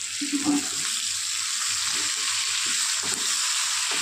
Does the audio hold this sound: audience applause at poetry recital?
no